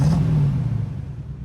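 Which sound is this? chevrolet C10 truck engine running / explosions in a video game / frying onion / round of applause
chevrolet C10 truck engine running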